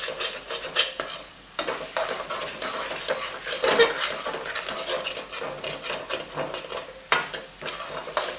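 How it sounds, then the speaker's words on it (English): Spoon stirring ghee into dried grated carrots for gajar halwa in a pan, a steady run of close scraping, rubbing strokes with a light sizzle underneath, no talking. "I'm going to add 1 tablespoon of pure ghee. And I'm going to stir the ghee in."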